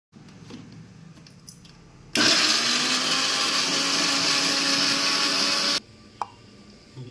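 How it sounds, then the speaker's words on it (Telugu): A kitchen mixer grinder whirs loudly for about three and a half seconds, grinding cooled masala spices for a village-style fish curry, starting and stopping abruptly against quiet background clatter. "ఇందాక మనం మసాలా చల్లార్చుకున్నాం కదా అది మిక్సీ పట్టుకుందాం"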